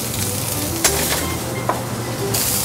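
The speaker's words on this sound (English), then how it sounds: "we're going to go in with our marinated Cajun shrimp" Marinated Cajun shrimp sizzle in butter in a hot pan, a loud steady frying hiss with a couple of brief sharp clicks and pops from the pan along the way.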